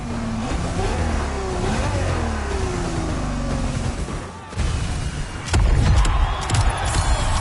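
A Ferrari's engine revs in The Crew Motorfest racing game, with a loud, rising and falling whine that dips briefly and then returns with a harsher, louder roar.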